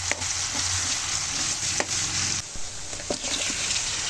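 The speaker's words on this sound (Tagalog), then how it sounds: "Gisa muna natin yung ating garlic sa mantika bago natin ihalo yung margarine" Garlic and shrimp sizzle in oil with margarine in a pan, a continuous close frying hiss broken by sharp scrapes and clicks of a spatula stirring, with no talking.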